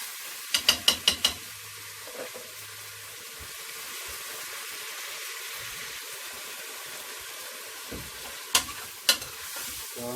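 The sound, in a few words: stirring turkey neck frying in pot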